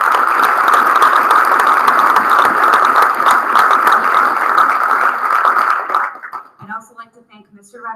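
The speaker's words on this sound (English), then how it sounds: "Please join me in thanking them all with a round of applause" An audience at a school induction ceremony applauds the organizers, a loud, dense, even round of clapping lasting about six seconds before it stops abruptly and a voice begins talking.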